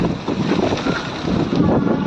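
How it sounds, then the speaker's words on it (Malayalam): A strong, cold storm wind roars hard and steady into the microphone, a loud, constant rumbling buffet with slight surges and no break. "നല്ല തണുപ്പ് കാറ്റ്."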